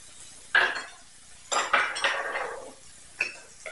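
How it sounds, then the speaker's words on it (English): Chopped onions and garlic tipped into a pan while cooking, giving a few separate clattering, scraping bursts against the metal, close and fairly loud with quiet gaps between them. "you're going to drop all the onions in there and the garlic"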